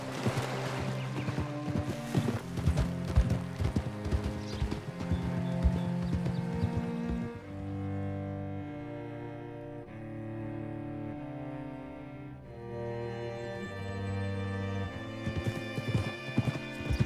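Horse hooves clip-clop steadily in Red Dead Redemption 2, a continuous rhythmic trot under a layer of game music, fairly close and even throughout.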